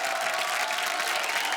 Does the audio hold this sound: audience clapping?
yes